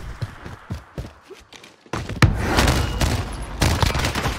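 Gunfire in the video game Warzone, starting with scattered shots and then a dense, loud burst of rapid fire that continues in sustained volleys.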